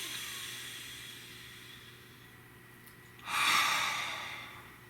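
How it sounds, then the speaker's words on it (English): A single deep breath, a soft airy exhale rising abruptly after a quiet stretch of faint room hum and then fading out slowly, close and alone with no speech. "Nice deep breath, please."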